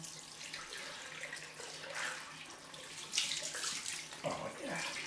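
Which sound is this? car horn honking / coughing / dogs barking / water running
water running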